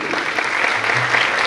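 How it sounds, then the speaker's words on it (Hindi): An audience claps loudly and steadily for the women's committee at a Jain religious remembrance gathering, a dense continuous applause with no voices on top. "एक बार जोरदार ताली भी बजा दीजिए।"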